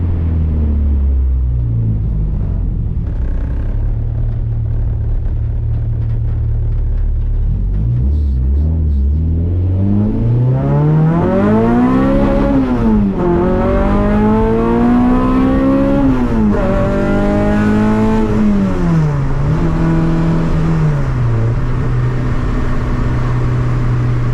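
A car with a Honda H22 engine accelerates hard, its loud, close engine note climbing and falling in repeated revving sweeps through the gears, with a deep rumble underneath.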